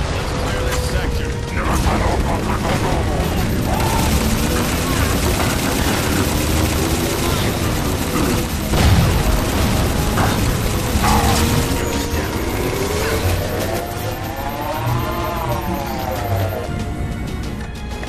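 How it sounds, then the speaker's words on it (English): Railgun fire at Phantom dropships in Halo 4 comes through in a dense battle mix of mechanical whines, booms and rapid shots, with gliding engine tones and radio voices talking over it. "Target those phantoms for the railgun to shoot down"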